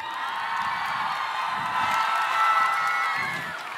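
A concert audience in Mantova applauds and cheers as a performer is introduced on stage, a steady wash of clapping and whoops that swells slightly toward the end without letting up.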